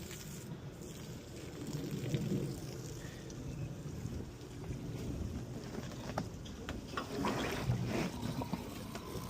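A cheap pool cover pump spits out water with a steady, low splashing and gurgling wash, fairly faint and continuous with slight surges, and no talking over it.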